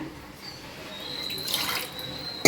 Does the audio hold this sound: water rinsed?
yes